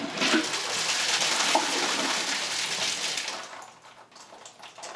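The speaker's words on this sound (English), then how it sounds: "I think we are ready for our first flush." A toilet flushes after a bucket of water is poured into the bowl, a close rushing gush of water that gradually fades into a quieter trickle, with no talk.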